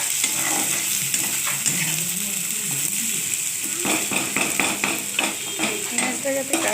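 Sliced onions fry in mustard oil in a pan, a steady close sizzle broken by repeated scraping and clinking strokes of a spatula as they are stirred, with no speech over it.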